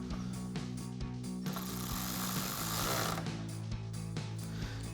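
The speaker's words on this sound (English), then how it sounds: "we can come up top here and tighten down our last 10mm screw" A power tool drives a 10mm screw on an F-250 pickup's headlight, giving a close, steady mechanical whir with short stuttering bursts and a louder stretch in the middle.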